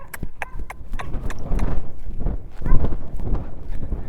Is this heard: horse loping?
yes